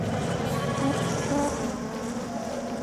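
A mysterious, continuous insect-like buzzing drone in a cartoon, the 'Martin Mystère' episode about a swarm, steady and fairly loud throughout with no speech.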